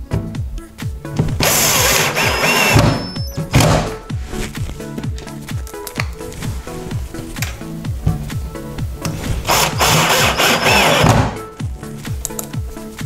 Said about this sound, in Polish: i przykręcamy w tym oto miejscu